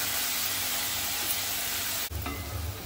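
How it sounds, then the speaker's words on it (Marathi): Chopped onion frying in a pan with a little salt for a dry shrimp dish, a steady, close sizzle throughout, briefly disturbed by a stir partway through, with no talking. "आता 2-3 मिनिटात आपला कांदा चांगला शिजला आहे"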